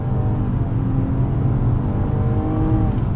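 A 2020 Nissan Maxima Platinum sedan with a CVT and simulated shifts accelerates hard under full throttle, a loud, steady engine drone climbing smoothly in pitch from inside the cabin, with no talk over it.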